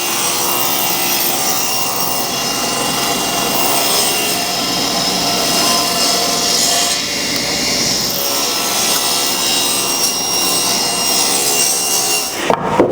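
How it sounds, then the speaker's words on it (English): A jointer trues up wood boards in a workshop, its loud broadband cutting roar steady and close for the whole stretch, with a brief clatter right at the end. "Something's not quite right on the jointer, so that's just going to true them up a little better."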